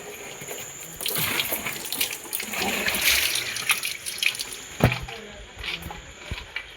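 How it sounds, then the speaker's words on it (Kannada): A grandmother fills water at a tap outdoors during heavy rain, a steady splashing and running-water wash with faint voices in the background. "ಅಜ್ಜಿ ನೀರು ತುಂಬತ್ತಾಳ"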